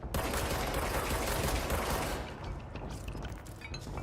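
Dense, continuous gunfire in the Control video game, a loud rapid burst lasting a couple of seconds and then trailing off into quieter mechanical clatter.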